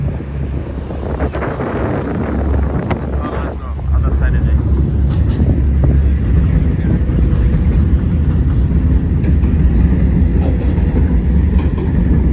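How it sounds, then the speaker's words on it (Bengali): Four-carriage train passing beside a river in Istanbul, a loud steady rumble with faint clacking that swells and holds, mixed with strong wind buffeting and a voice talking over it. "আর এদিক দিয়ে 4টা ডাব্বার মতো ট্রেন যাইতেছে।"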